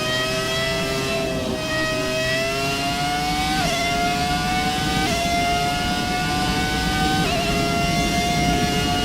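Screaming V10 Formula 1 engine in the F1 2017 racing game, loud and continuous at high revs, with brief pitch drops at each upshift before climbing again.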